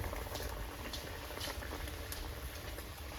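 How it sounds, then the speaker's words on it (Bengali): Ilish fish curry with mustard simmers in a pot, a steady close bubbling and popping boil with fine, irregular patter and no voices. "সর্ষে দিয়ে দিয়েছি আর ঝোলটা খুব সুন্দর ফুটেও গেছে"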